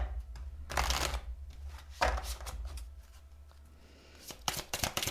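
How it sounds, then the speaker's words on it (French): Oracle cards from an Archangel Michael deck being shuffled and drawn: several brisk, papery riffling bursts close by, separated by brief quieter pauses, with no talking. "je vais vous tirer une carte de l'archange Michael"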